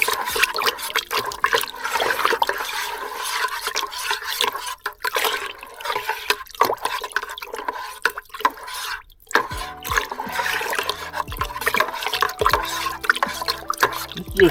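Raspberry-infused water wine must, sugar water with yeast nutrient, being stirred close up. Liquid swirls and sloshes continuously, with small clinks and splashes and a brief pause partway through.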